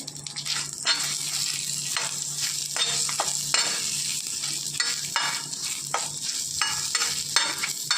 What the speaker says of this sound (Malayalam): ഇതെല്ലാം കൂടെ ചേർത്ത് നന്നായിട്ടൊന്ന് ഇളക്കി യോജിപ്പിക്കുക